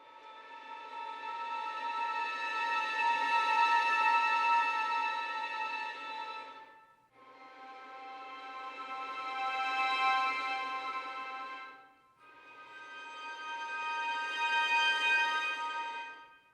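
Three long, sustained sampled first-violin harmonics, each swelling and fading, with brief gaps between them; airy, glassy tones played alone.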